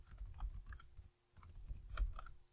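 Quiet clicking of keys on a computer keyboard, two short bursts of quick typing separated by a brief pause.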